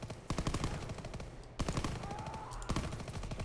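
Rapid bursts of automatic gunfire in the Call of Duty WWII campaign, dense repeated shots crackling close and loud with hardly a pause, briefly breaking off halfway before resuming.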